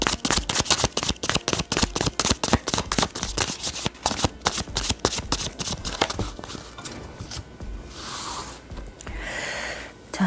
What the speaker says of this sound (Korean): 좀 더 추가 카드를 뽑아서요